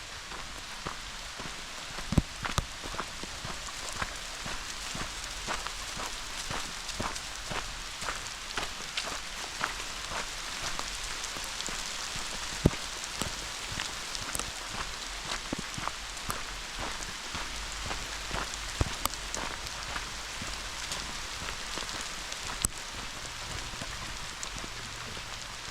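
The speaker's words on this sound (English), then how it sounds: "in true Florida fashion, as soon as we get out of the car, it rains." Steady rain falls outdoors by the Peace River in Florida, a dense continuous patter on surfaces with occasional sharper drops close by, and no talking.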